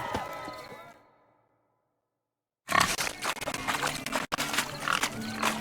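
Pigs grunt and oink in The Witcher 3 during a village pig-chasing race to crown the King of the Swineherds, a short burst of snorts up close, then a pause, then loud, busy rustling and squealing.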